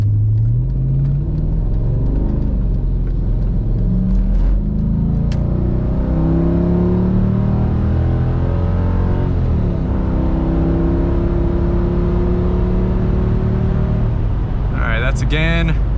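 A Mercedes ML55 AMG with Bosch ME 2.0 engine management accelerates at part throttle, its engine note rising through repeated sweeps under steady road rumble, with someone talking over it and a brief clatter near the end.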